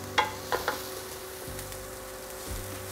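Garlic sizzling in a pan with vegetables, a soft steady frying hiss with a few clinks of stirring, quiet and close, with no voices.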